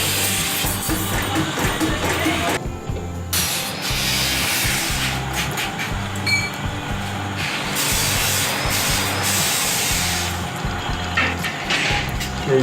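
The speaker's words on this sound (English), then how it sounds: "We will cut the ring to adjust the size." Steady, continuous rasping of a saw cutting through a steel ring, loud and close, with a brief pause partway through before the strokes resume.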